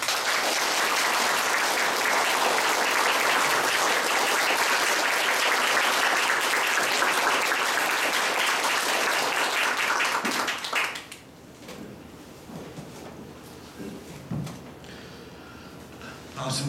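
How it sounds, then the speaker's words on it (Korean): Warm, loud applause from a lecture audience in Suwon welcomes a speaker, a dense sustained clapping that fills most of the stretch before dropping away abruptly into quieter room noise with scattered sounds. "뜨거운 박수로 모시겠습니다."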